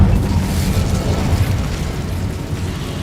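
Incendio fire spell cast in Hogwarts Legacy, a loud continuous whooshing, roaring burst of flame with a deep low-end rumble lasting the whole span, no talking.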